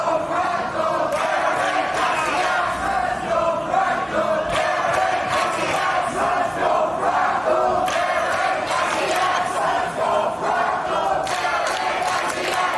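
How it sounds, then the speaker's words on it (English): A large crowd at the 2022 Classic Tetris World Championship chants and roars continuously, a dense wall of voices that swells in rhythmic waves and stays loud throughout. "the entire crowd was getting into the chants"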